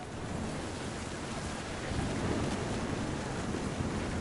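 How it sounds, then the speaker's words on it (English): Steady heavy rain pours during a thunderstorm in the game What Remains of Edith Finch, a dense hiss with a low rumbling swell of thunder building toward the end, no voices. "The thunder sounded much too close and full of angry power."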